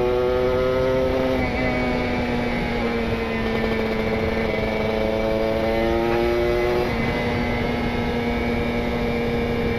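Kawasaki Ninja RR two-stroke with PWK28 carburettor and R9 Neo Mugello carbon exhaust, revving loud and close with a buzzing note that climbs, drops sharply twice, then rises again, continuous throughout.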